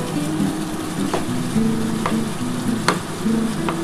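Chicken curry spice paste sizzles steadily in a pan as it is stir-fried, with a continuous close frying hiss and occasional scrapes of the stirring spoon.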